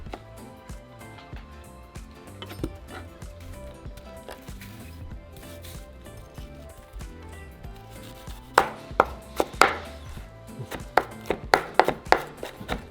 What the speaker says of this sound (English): we're going to finally chop our other half of onion and cilantro